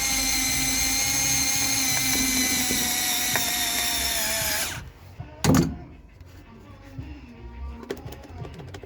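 A power drill drives a screw into the dash pad of a Skylark with a loud, steady whining buzz that stops abruptly, followed by a short clunk and quiet handling noises.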